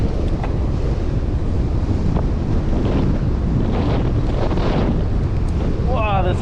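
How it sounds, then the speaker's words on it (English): Strong onshore wind on a sandy Queensland beach buffets the microphone in a loud, continuous roar that drowns out nearly everything else, with surf faintly mixed in. "the amounts of wind that may be picked up on the mic"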